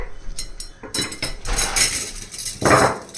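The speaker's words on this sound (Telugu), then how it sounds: "ఈ బాక్స్లో బొగ్గులు వేసేసుకోవాలండి" Charcoal lumps clatter and clink into a metal grill box, a quick series of close, hard knocks and rattles.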